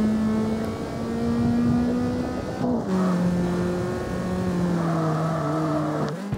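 A car drifting in the open-world driving game CarX Street, with a loud, steady engine drone that shifts pitch as the car slides and revs, its sound continuous and up close.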